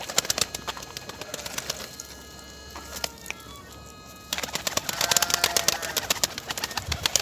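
Pigeons in a coop make scattered cooing and rustling sounds against a steady background murmur, with a busier stretch of clicks and movement near the end.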